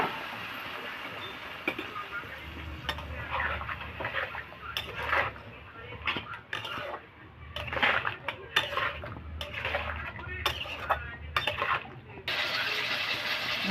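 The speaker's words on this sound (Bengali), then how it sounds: "জিরের গুঁড়ো, একটু জল দিয়ে মশলাটাকে ভালো করে কষিয়ে নেব" Ground cumin and spice paste with a splash of water is fried and stirred in a pan for a katla fish and potato curry: steady low sizzle under repeated close scraping and metallic clatter from the spoon.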